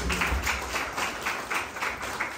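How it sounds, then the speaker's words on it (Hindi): Congregation clapping in praise during a Hindi church sermon, steady rhythmic applause from many hands, moderately loud with a room echo, no voices over it. "ताली बजाए प्रभु के लिए"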